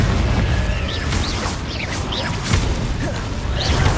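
Loud, sustained blasting and rumbling from the Confringo explosive spell in the Hogwarts Legacy video game, with repeated bursts and whooshes layered over a continuous low roar.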